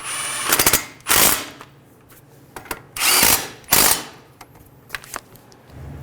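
Power tool driving in the caliper bracket bolts on a 2003-2008 Honda Pilot, heard as several short loud bursts of whirring with quiet pauses between them, close up.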